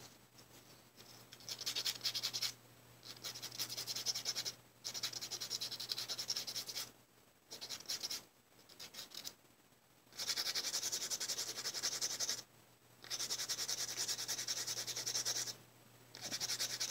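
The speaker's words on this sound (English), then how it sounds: "You can tell that it's like eaten into my natural nail, so you can just buff that off." A nail buffer rubs leftover glue off a natural nail in repeated bursts of scratchy, close-up friction separated by short pauses, with a steady low hum underneath and no talk.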